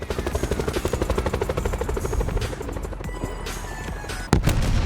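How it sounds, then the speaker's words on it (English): A helicopter in Call of Duty Black Ops 4 Blackout on PC: a loud, steady rhythmic rotor chop that thins out midway, with a sharp bang near the end. "I've never flown the chopper, but I'm about to take the chopper."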